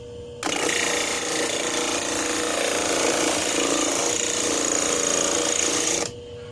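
A homemade sander built from a sewing machine motor grinds against a small piece of wood, a steady, loud whirring and rasping that starts abruptly, runs evenly for about six seconds and then cuts off.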